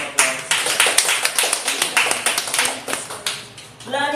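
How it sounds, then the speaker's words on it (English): A small audience at an educational planning session claps in a sparse, rhythmic burst of distinct, fairly close hand claps that fade out near the end. "let us give ourselves a round of applause"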